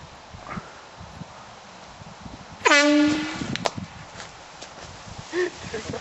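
A single loud blast from an air horn cuts through quiet outdoor ambience on a golf course, a blaring tone lasting about a second before fading, with faint rustling and a brief soft thump afterward.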